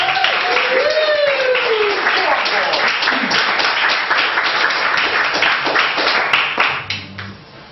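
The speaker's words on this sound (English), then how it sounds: "Let's have a massive round of applause for my friend," Dense applause and clapping from an audience welcoming performer Paul McNulty onto the stage at the Dulcimer, with voices and cheers mixed in, fading out near the end.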